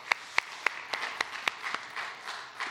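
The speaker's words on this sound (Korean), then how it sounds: "우리 하나님께 영광의 박수 돌려드리겠습니다" Scattered hand claps from a church congregation during a Sunday worship service, a handful of sharp separate claps with uneven spacing, fairly faint and not building into full applause.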